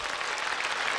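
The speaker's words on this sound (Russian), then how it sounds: "Публика бешено аплодирует." Concert audience at a 2004 comedy show applauding hard, a dense continuous wash of clapping from a large crowd for the whole brief moment.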